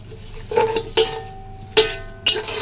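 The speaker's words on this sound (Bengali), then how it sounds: "হলুদের গুঁড়া, গরম মশলার গুঁড়া, আদা রসুন জিরার পেস্ট সব একত্রে দিয়ে সুন্দর করে ভেজে নেব।" Turmeric, garam masala and ginger-garlic-cumin paste are stirred together in a pan as they fry. A spoon clinks and scrapes against the pan in four distinct strokes over a faint sizzle.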